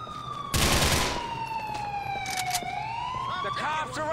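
A wailing police siren sweeps up and down through GTA IV street action, cut across by a loud burst of gunfire and later rapid shots, with voices talking underneath.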